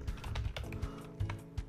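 Keys clatter in a quick, uneven burst on a computer keyboard, close and clear, with a low hum underneath.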